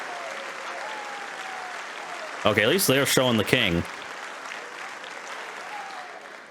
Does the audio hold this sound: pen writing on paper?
no